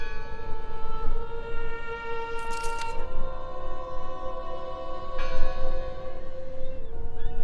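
A church bell rings inside the video game Draugen: sustained, resonant metallic tones with long humming overtones, one louder strike standing out, heard alone at moderate volume over a low ambient rumble.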